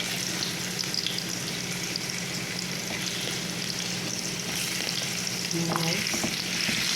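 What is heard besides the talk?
frying potatoes and carrots in a pan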